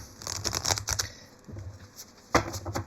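Tarot cards riffle and flutter in short bursts with pauses between, a brief sharp shuffle near the end, close and fairly quiet.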